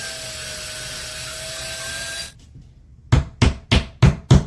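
A whining power drill runs, stops, then five sharp hammer blows pound plugs into a wall in a steady rhythm, close and loud.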